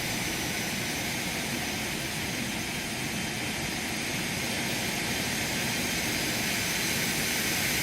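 Jet engines of a small twin-engine airplane, an Aerobask, hum steadily as it taxis and swings around on differential thrust at Sedona, Arizona, a loud continuous broadband roar with a tonal whine held throughout, heard from the cockpit.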